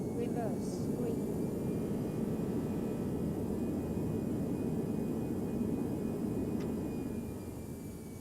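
Loud, steady jet engine roar from an A319 airliner in X-Plane 11 with reverse thrust applied after landing, a broad continuous rumble that eases slightly near the end.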